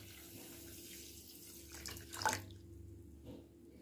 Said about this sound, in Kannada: ಮುಳುಗಷ್ಟು ನೀರು.